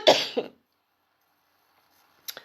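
One person coughs twice in quick succession, close and fairly loud, followed by silence and then a faint, brief second cough.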